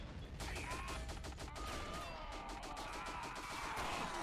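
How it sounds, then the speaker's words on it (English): Machine gun fire in a WW1 video game, rapid repeated bursts of shots at mid distance over continuous battlefield din, sustained throughout. "That MG is doing wonders."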